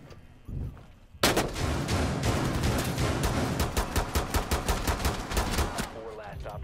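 Gunfire erupts in Rainbow Six Siege, opening with a sudden loud volley and continuing as a steady rhythm of close, rapid shots, with brief voices underneath.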